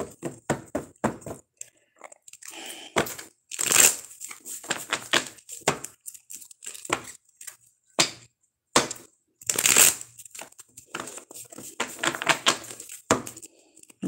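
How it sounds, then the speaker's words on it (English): Tarot cards being shuffled by hand in a quiet room, with irregular riffles, snaps and taps in short bursts and a couple of louder sharp slaps. "One more shuffle for Leo."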